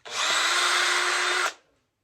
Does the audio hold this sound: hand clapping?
no